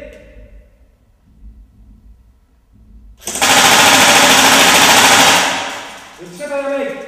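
Toy gun firing in rapid-fire bursts, loud, dense, and sustained for about two seconds after quiet spoken commands, then trailing off as talk resumes.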